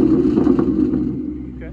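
A warm Ford Mustang with a loud exhaust is held at about 2000 RPM, giving a steady, deep, close-up exhaust rumble that eases slightly toward the end.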